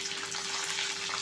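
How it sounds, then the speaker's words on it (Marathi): Cumin and mustard seeds crackling in hot oil for a moth bean dish, a steady, fine sizzling hiss with dense tiny pops, close and moderately quiet, with no talking. "हे पहा, जिरी मोहरी छान तडतडती आहे."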